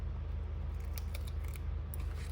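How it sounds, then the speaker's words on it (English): Scissors cutting planner stickers at close range, several crisp snips in quick succession over a low steady background hum, with no talk. "So you would have to use the scissors to cut after you put them off."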